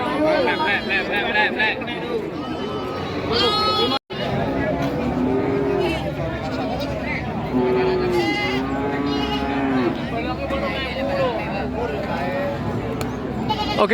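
Goats bleat repeatedly at a crowded livestock market in Krek, Tuban, with several calls overlapping amid constant crowd noise and talk.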